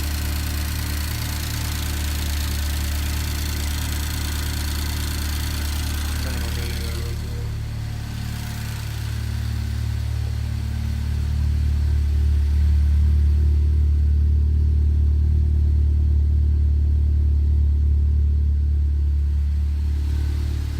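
Chevrolet Cobalt SS engine idling after a turbo swap, a steady close rumble that grows deeper and louder partway through as the revs rise, with no talk over it.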